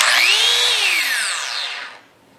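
A two-mode power sander whirring at high speed, its pitch gently rising and then falling as it winds down, fading out after about two seconds with no talk.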